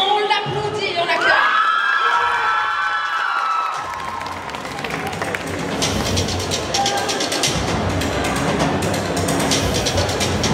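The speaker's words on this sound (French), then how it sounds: "on l'applaudit, on l'accueille" A cosplay contest audience at the Festimanga 2025 convention erupts in loud cheering, shouting and applause after a contestant is announced, a dense continuous crowd roar filling the hall with an announcer's voice over it at the start.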